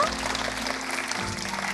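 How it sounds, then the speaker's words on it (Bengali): A school quiz competition audience claps for the prize winner, a dense burst of applause filling the short moment with a steady even clatter, moderately loud and close, with a murmur of voices underneath. "আরো একবার হাততালি হবে আফনানের জন্য"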